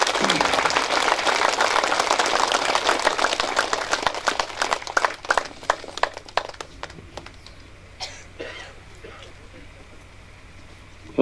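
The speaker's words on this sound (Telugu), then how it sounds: "మైత్రేయ బుద్ధునికి ఒకసారి గట్టిగా క్లాప్స్ కొట్టుకుంది." An audience at a celebration gathering applauds loudly, a dense burst of clapping that thins into scattered claps and fades out toward the end.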